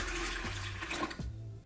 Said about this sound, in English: So now I'm gonna add 1 cup of distilled water